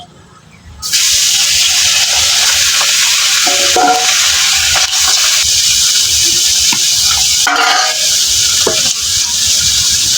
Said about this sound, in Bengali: মাছটি সুন্দর কিন্তু ভাজা হয়ে গেছে একটা মসমসা হয়ে গেছে